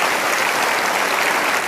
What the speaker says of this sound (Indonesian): Boleh tepuk tangan untuk periode kedua.